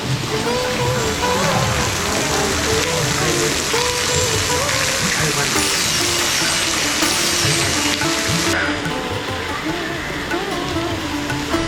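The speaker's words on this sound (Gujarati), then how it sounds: "ઉપરથી પાણી પડતું તમને જોવા મળી જશે" Water pours down from a rocky mountain overhang above a hillside temple in monsoon season, a loud continuous rushing splash like heavy rain that runs unbroken throughout.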